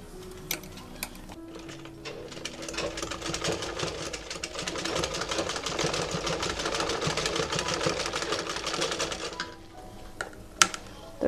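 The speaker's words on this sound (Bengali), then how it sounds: "এই পাশেটাও সেলাই করব" A sewing machine stitches the side of a cloth face mask in one sustained run of several seconds, moderately quiet, with faint handling clicks before and after.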